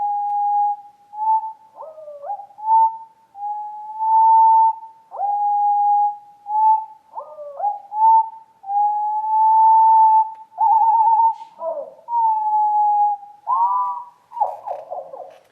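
Bird song of clear, whistled notes repeating in phrases, rising in volume and ending in a more elaborate warbling flourish, heard alone in a quiet setting.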